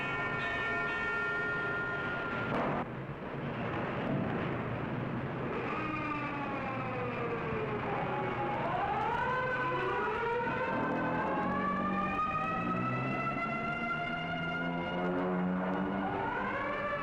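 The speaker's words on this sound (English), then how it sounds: "the banshee wail of the siren echoes the warning" A civil defense siren wails across a city in a 1957 dramatization, its long rising and falling tones sweeping repeatedly and overlapping loudly for the whole stretch, with no speech.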